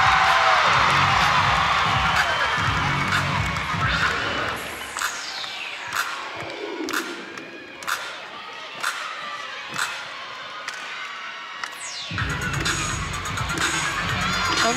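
A gymnastics crowd at a Florida at Auburn meet cheers and shouts loudly, then quiets to rhythmic clapping and thuds during the routine before erupting into loud cheering again near the end.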